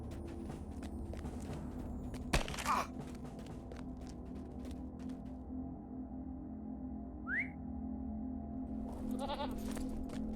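A goat mount bleats in LOTRO, heard as a short high cry about midway through, alone over steady game ambience and footsteps.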